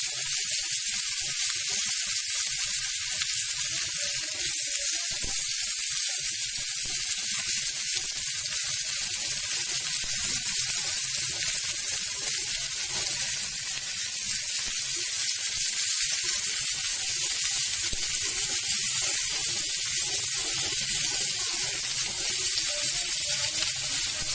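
Onions dropped into very hot oil sizzle loudly and continuously, a close bubbling, spitting hiss that slowly settles while being stirred, with no talking.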